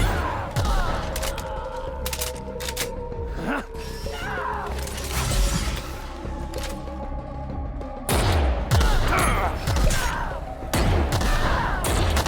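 Gunfire fills a firefight in The Outer Worlds, a steady busy stretch of shots and impacts that runs the whole time, with a louder burst near the end.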